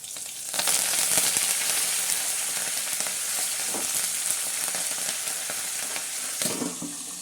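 Lemon pickle ingredients sauté in hot oil, giving a steady close sizzle and crackle throughout, with occasional stirring clatter and no talk.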